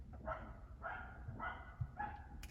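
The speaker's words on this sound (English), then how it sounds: "You hear that dog?" Dog barking at a distance, four evenly spaced faint barks over a quiet background hum.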